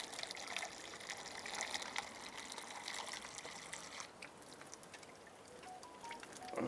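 Water rushing steadily through a koi pond filter as it is flushed until it runs clear, a continuous splashing gush nearby with no voices.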